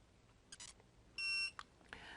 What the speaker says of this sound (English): hold the set button down until it beeps